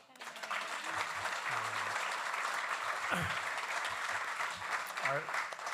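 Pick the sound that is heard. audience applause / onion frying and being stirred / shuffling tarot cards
audience applause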